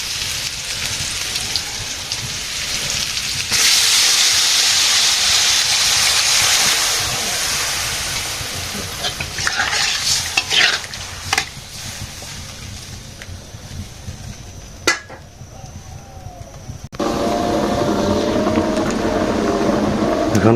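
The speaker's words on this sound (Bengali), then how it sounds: "এখন ঝোল দিয়ে দেবো।" Broth goes into a frying soybean and vegetable curry, setting off a loud, steady sizzling hiss that swells, thins with a few sharp clinks, then surges again near the end; no voices.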